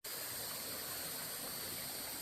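Matt's Creek flowing along a hiking trail, a steady broadband rush of running water that stays even and continuous throughout, with no voices.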